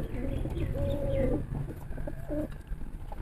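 Soft, low pigeon coos repeat a few times, close by, over steady background murmur and faint chirps.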